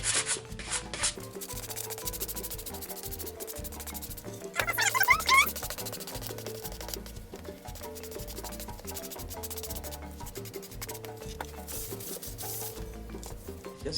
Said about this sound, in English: what I generally do at this point is I just take a sanding block